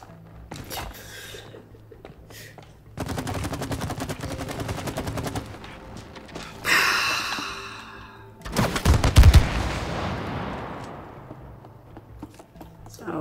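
Video game gunfire in It Takes Two, with bursts of rapid automatic shots in several volleys and a louder blast near the end. A voice speaks faintly underneath.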